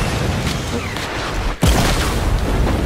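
Gunfire in the Fortnite video game: a dense, loud barrage of booming shots and bursts fills the scene, with a brief dip before a heavy blast lands and the shooting continues.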